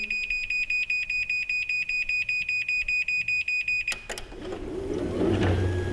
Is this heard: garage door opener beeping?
yes